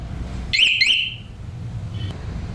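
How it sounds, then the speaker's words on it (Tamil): A TP Moto motorcycle alarm system, triggered by its remote, gives two quick high-pitched electronic chirps followed a moment later by a fainter single beep, all over a low background rumble. "வாங்க இந்த பீப் சவுண்ட் எப்படி இருக்குன்னு பார்க்கலாம்."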